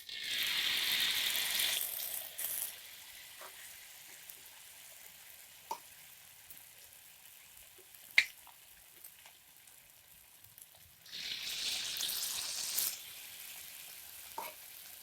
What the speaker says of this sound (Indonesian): Kita akan coba masukkan goreng godok bada ya sahabat.